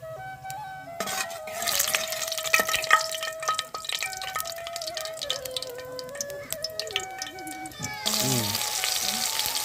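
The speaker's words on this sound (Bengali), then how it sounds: "তেল গরম হয়ে গিয়েছে, এবার আমি এতে দিয়ে দেবো কালো জিরে ফোড়ন।" Black cumin seeds crackle and sizzle in hot oil in a pan for a Bengali hilsa curry, a busy close frying hiss with pops and clinks that flares again near the end.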